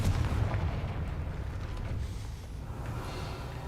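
In the video game Hogwarts Legacy, the Confringo blasting spell is cast at a gate, producing a deep booming blast followed by a rumbling, crackling decay over a few seconds, moderately loud with no speech.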